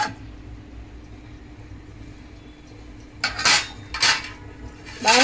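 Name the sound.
plate lid lifted off a pot of rice upma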